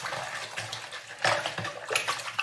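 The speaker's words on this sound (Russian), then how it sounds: "1 литр 400 миллилитров молока. Все это хорошо перемешиваю." Milk and sugar are stirred together in a bowl, giving a continuous wet sloshing, swishing churn with splashy peaks, close up and with no talking.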